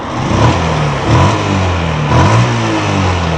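A Yamaha X-1R 135 motorcycle engine, recently serviced with a cleaned carburetor, revs up and down close by in a series of rising surges over a throaty idle.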